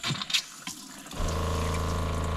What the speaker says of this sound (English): Leak. We've got a leak.